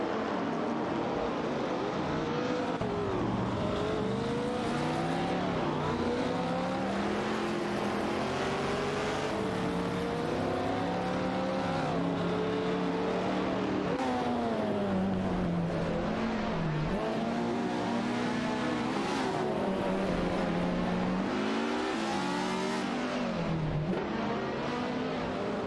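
Race cars in an AI racing video game roar continuously, their engine notes rising and falling through gear changes and overlapping as cars jostle for position, loud and unbroken.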